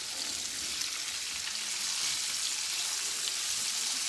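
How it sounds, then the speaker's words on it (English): Strips of skinless, boneless king salmon fry in hot seasoned oil, a loud, dense, steady sizzle with crackling spatter throughout and no voices. "I'm gonna lay it in the hot oil with the seasoning in it"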